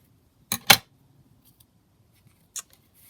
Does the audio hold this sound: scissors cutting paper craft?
yes